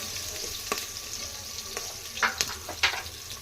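Onions and masala fry with salt in a pan for chicken curry, a steady close sizzle broken by several sharp scraping clinks of a spoon stirring against the pan, with no talking.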